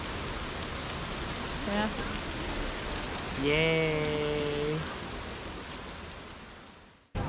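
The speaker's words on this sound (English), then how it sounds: "It's raining and raining and raining and raining" Steady rain falls in Prague, a dense even hiss on surfaces that holds throughout, with brief cheerful voices and a short melodic tone partway through before the sound cuts off at the end.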